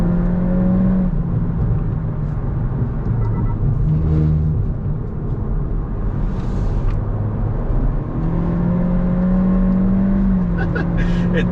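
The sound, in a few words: Hondata-tuned 2022 Honda Civic accelerating on canyon run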